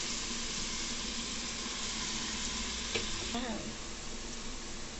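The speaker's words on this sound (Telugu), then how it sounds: "ఎర్రగా వేగినాయండి ఉల్లిపాయలు" Onions fry in oil until reddish brown, a constant soft sizzling hiss that runs throughout, with a brief stir or clink of a utensil near the middle.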